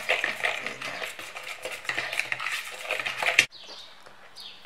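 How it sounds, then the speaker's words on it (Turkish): A fork clinks and scrapes against a bowl while stirring a tahini dry bean dish from Adana, close-up, with rapid, light, irregular tapping for about three seconds before falling quiet. "Ondan sonra arkadaşlar böyle karıştırıyorum."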